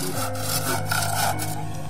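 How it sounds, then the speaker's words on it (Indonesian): A hand saw cuts through bamboo in short, rasping back-and-forth strokes, close and steady for under two seconds. "Ia sudah terbiasa bekerja dengan gergaji dan golok, sehingga tak ada rasa takut ketika membelah bambu."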